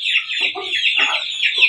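Asil champion rooster clucking, a close run of short throaty clucks and chirps repeating over about two seconds, with no talking.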